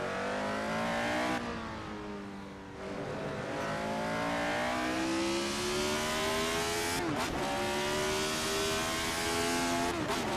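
Retro F1 race car in a sim racing game, its engine screaming at high revs and climbing through the gears, with brief drops as it shifts, loud and close throughout with no talk.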